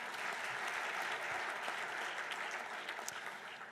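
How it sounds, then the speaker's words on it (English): Sustained applause from an audience at a university athletics hall of fame ceremony, steady and dense for the whole stretch with no voices over it. "Please give Donald a round of applause"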